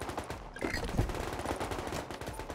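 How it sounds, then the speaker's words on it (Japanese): Gunfire in a survival video game, rapid bursts of shots with a rattling automatic rhythm, fairly distant and continuous across the moment. "まあ、銃声結構してるんですけど"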